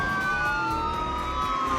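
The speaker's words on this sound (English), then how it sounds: "Soon, police sirens wailed outside." Police sirens wailing steadily and loudly, a drawn-out tone gliding slowly downward over a constant background rumble.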